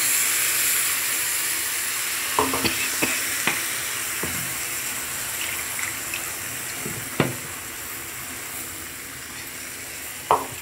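A hot pan of cauliflower stalks with mustard paste sizzles steadily as water goes in, with scattered sharp clinks of stirring against the metal throughout.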